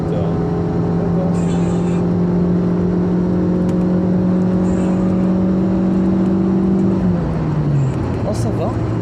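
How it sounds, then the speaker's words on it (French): A car engine hums steadily while driving, holding a constant droning tone that drops in pitch near the end as it slows or shifts, with road noise and talk inside the cabin. "Là je pense qu'on entend bien le moteur."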